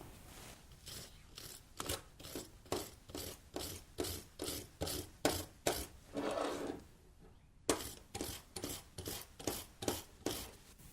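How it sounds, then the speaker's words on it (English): A tool scrapes and brushes repeatedly over the threads of the rear differential fill and drain bolts of a Mercedes-Benz S500 W220, giving about twenty close, rhythmic rasping strokes with a short pause partway through. "With one of the tools that I recommended earlier, clean your fill bolt and drain bolt."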